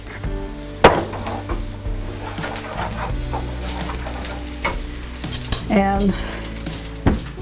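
Onion fries in a pan for potato pancakes, a close steady sizzle under repeated clinks and knocks of utensils and cookware, with a few louder metallic hits and a brief squeaky rattle, while a voice briefly speaks.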